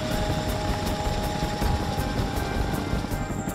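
A Chinook tandem-rotor military helicopter hovers low over water at under 10 knots, giving a steady, loud rotor and engine roar with a faint rhythmic blade thump and no voices.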